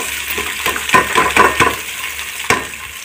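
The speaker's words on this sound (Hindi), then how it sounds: "अब इसमें मैं ऐड करती हूँ प्याज।" Onion frying in hot ghee hisses steadily while a spoon stirs it in a series of quick scrapes and clinks, close and fairly loud with no voices.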